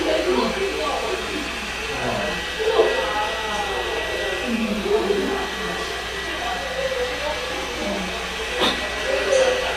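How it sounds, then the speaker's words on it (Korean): A hair dryer's steady rush of blown air hisses continuously, with people talking over it throughout. "지금 헤어드라이기로 이렇게 뿌리는 겁니다"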